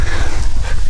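A dog pants close by in quick, steady breaths outdoors, set against a low rumbling background.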